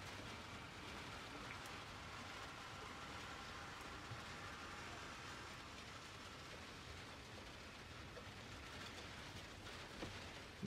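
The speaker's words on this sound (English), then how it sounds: "I don't know if you can hear that, but it's hailstones outside." Hailstones pelt the outside of a Ford Transit van in a dense, continuous patter, a steady rattling wash heard from inside the van with no voices.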